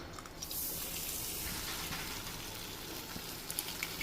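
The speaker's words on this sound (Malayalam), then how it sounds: "മുട്ട വറുക്കാൻ പോകാണ്" An egg fries in a hot pan with a dense, steady sizzle that holds throughout, punctuated by a few small crackles near the end; no one speaks.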